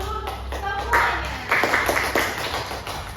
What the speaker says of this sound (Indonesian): Kasih tepuk tangan dulu semuanya.